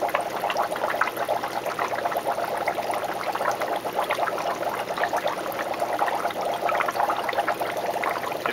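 Water steadily dripping and trickling out of freshly harvested seaweed as it drains without being squeezed, a continuous close patter with no talking.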